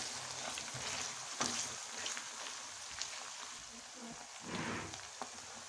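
Desi ghee tadka sizzling steadily for sarson ka saag, a continuous close frying hiss with small crackles and stirring sounds throughout.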